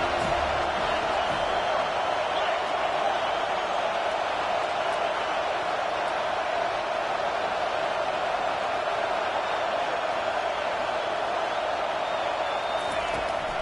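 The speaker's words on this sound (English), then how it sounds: "this crowd is turning it up a notch" A dense, steady roar of a large stadium crowd cheering at a Florida State football game in a video game, unbroken and loud throughout.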